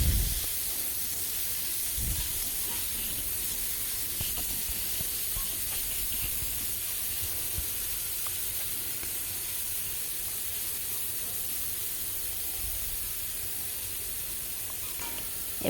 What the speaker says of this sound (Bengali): চিংড়ি মাছগুলোকে ভালোভাবে ভেজে নিতে হবে।